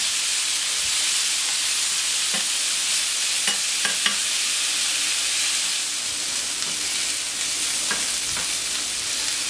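Slow-cooked vegetables, Brussels sprouts among them, browning in a pan, with a continuous bright sizzle and hiss. Scattered clicks and scrapes of stirring sound against the pan.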